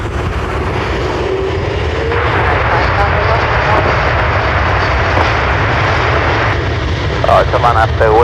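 Jet airliner on its takeoff roll from runway 10 right at Dublin Airport, a loud steady engine roar with rising whine that fills the whole clip, with radio chatter and voices audible over it.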